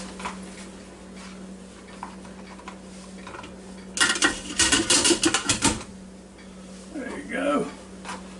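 Sweet potato fries are tossed and stirred in a Ninja Foodi pot, giving a short burst of clattering, scraping taps in the middle over a steady background hum, then a few softer knocks near the end.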